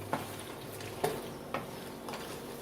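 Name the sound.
stirring Velveeta cheese into macaroni in pot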